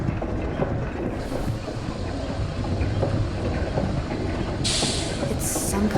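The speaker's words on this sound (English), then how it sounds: "It's some kind of steam engine. It's so loud." Steam-engine machinery in the video game Lorelai gives off a loud, steady, dense mechanical rumble with a constant hiss. Brief brighter hissing bursts rise over it near the end.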